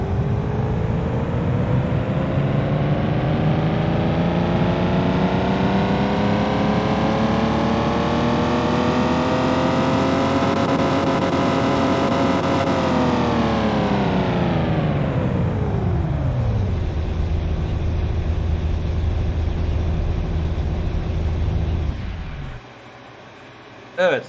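A BMW engine in Car Mechanic Simulator 2021 revs steadily on a dyno, a strong buzzing drone climbing slowly in pitch for about thirteen seconds, then winding down to a low idle before cutting off, under light talk.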